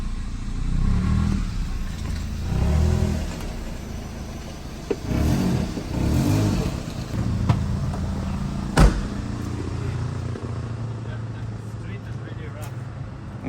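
A Mercedes CLS550 engine revs in a shop with its rear wheels lifted off the ground, a low rumbling drone that swells and falls in bursts while people talk over it.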